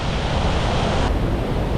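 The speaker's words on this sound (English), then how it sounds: "this wind has been blowing like this for 2 weeks." Steady wind rushes over open water at the Elmore Weir, a continuous loud broadband roar with gusty buffeting on the microphone and no voices.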